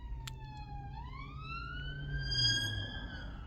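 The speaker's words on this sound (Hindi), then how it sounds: "पुलिस कब से सायरन बजाई जा रही" A police car siren sounds a single slow rising sweep that climbs and holds high, clear above a low traffic rumble, loud and fairly near.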